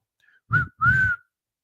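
Two short whistle blasts sound in quick succession, the second longer, clear and loud against silence.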